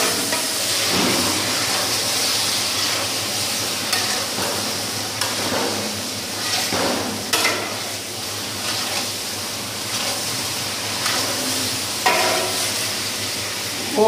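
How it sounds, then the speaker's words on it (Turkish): Chicken sizzles and fries in a pan, a steady hiss with occasional stirring scrapes and clacks of a utensil. "Şu anda tavuk etlerimizi soteliyoruz."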